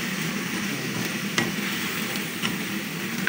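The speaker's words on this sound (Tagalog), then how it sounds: "Sinangkutsa ko muna yun, guys, yung chicken." Chicken searing in a pan, a steady broadband sizzle that holds at an even level throughout, with a couple of faint clinks of a utensil against the pan.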